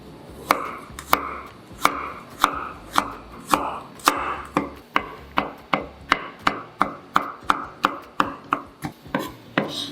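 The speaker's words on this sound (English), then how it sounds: "Chop 2 cloves of garlic." Knife chopping garlic cloves on a board for a seafood tofu claypot dish, a steady run of about two dozen crisp close thwacks over ten seconds, no voices.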